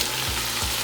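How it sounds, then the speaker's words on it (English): Washed, soaked rice goes into a sizzling pot for a home-cooked vegetarian breyani, giving a steady loud frying hiss with brief stirring scrapes, heard alone and close. "And last of all, we're going to add our rice that has been washed, soaked"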